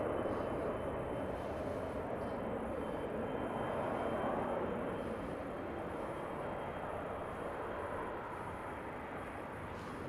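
A Lufthansa airliner at Los Angeles airport gives off a steady, broad jet roar that holds level for about ten seconds with no talk over it.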